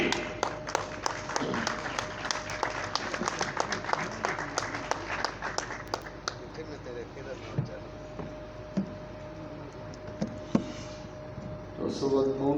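Audience clapping at a poetry recital, strongest in the first six seconds with dense overlapping claps, then thinning into scattered claps and murmuring crowd noise before a brief renewed burst at the end.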